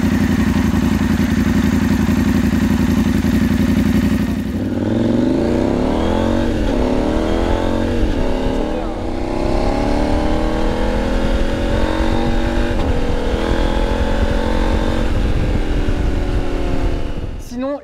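A KTM 890 Adventure Rally motorcycle with a loud aftermarket exhaust fitted with a baffle idles roughly, then revs repeatedly in rising and falling sweeps, coarse and close-up throughout.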